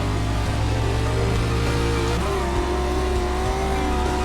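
A race car in iRacing runs a lap on a dirt road, its engine droning loud and steady with shifting revs and a faint tire scrub beneath.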